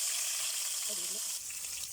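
Steady, dense sizzling of dried fish frying in hot oil, a constant bright crackle that runs throughout with no pauses.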